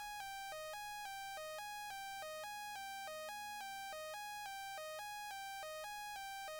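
Bright synth lead built from a default Serum wavetable plays a bouncing triplet melody for a beat, stepping between two pitches in a steady repeating pattern, clean and alone with a faint low drone beneath.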